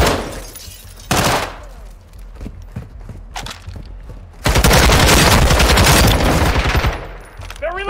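Heavy gunfire in Modern Warfare 2: scattered shots and impacts, then a dense, loud burst of sustained automatic fire that rattles for several seconds before tapering off.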